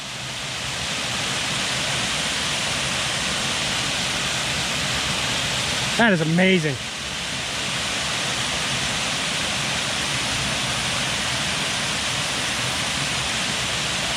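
Waterfalls along the Van Hook Falls trail just after rain roar as a steady broadband rush that fills the whole stretch, with someone briefly speaking over it midway.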